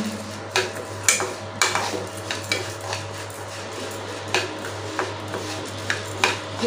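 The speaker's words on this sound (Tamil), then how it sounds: "துவரம் பருப்பு சேர்த்து வறுத்துருவோம்" Toor dal roasting in a pan, a spoon scraping and stirring in irregular clinks and scrapes over a steady low hum, with no voices.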